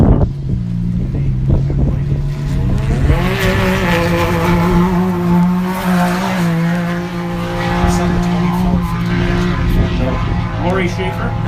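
An off-road race car at the 2022 High Desert 100 qualifying roars past, its engine note rising and sweeping in pitch as it goes by, loud and close, with commentators talking over it and wind buffeting the microphone.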